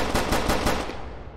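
Machine gun fire in the Skibidi Toilet horror video game, a loud rapid burst of evenly spaced shots lasting about a second, close and alone.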